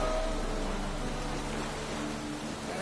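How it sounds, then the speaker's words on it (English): Rain falls in the video game The Witcher 3: Wild Hunt, played on a PS4: a steady, even hiss of rainfall at low to moderate volume, with no voices. "It's raining again."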